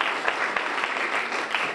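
Steady applause fills the hall for honorees at a university chancellor's awards ceremony, a continuous wash of many hands clapping at even strength throughout.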